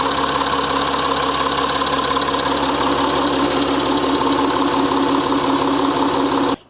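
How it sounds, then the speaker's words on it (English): A Citroën C6 engine idles loudly and steadily with a rough, raspy, puffing exhaust note from a large hole in the exhaust, cutting off abruptly at the end. "There's a great big hole in the exhaust."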